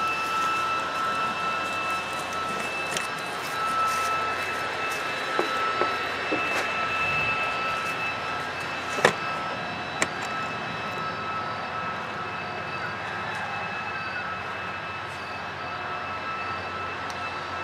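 A lawn and leaf vacuum machine runs outdoors during a fall cleanup, a loud continuous engine roar with a droning whine, steady throughout with a few brief knocks and clicks over it.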